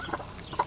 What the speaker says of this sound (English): So the two new chickens are in the coop